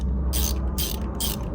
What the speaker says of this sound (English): now we're gonna use the wrench, the extension, and the 10 millimeters